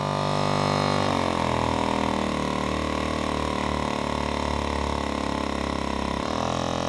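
A small engine on a fragile rig running loud and close at about 2100 rpm, a steady humming drone that shifts pitch as it picks up near the start and changes again just before the end, with no voices.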